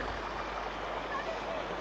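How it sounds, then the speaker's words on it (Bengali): Strong floodwater from heavy rain rushes across a road in a steady, dense roar of flowing water that fills the whole clip, loud and close, with no talk. "একটা রোডের উপরে দিয়ে যদি এ পরিমাণ স্রোত হয়, কি পরিমাণ পানি যায়"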